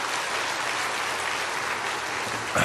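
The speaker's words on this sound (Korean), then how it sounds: "박수를 쳐." A church congregation claps during a Korean Sunday sermon, a steady, dense wash of applause that carries on evenly from start to finish with no voices over it.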